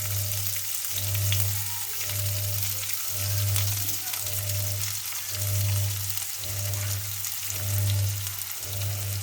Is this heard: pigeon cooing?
no